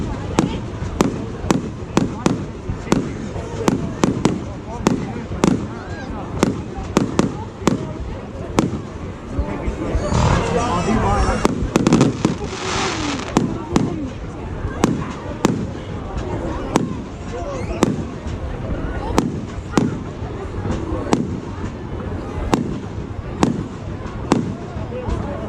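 Bonfire night fireworks bang repeatedly at an irregular pace, with a dense crackling burst partway through. People talk under the explosions.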